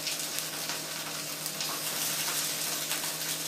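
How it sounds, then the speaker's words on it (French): Polenta and quinoa patties fry in oil on a plancha griddle, giving a steady, dense sizzle that stays close and even throughout, with no voices over it. "on va commencer la cuisson de nos galettes de polenta"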